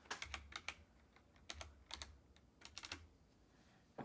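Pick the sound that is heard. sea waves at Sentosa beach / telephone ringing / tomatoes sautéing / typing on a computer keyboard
typing on a computer keyboard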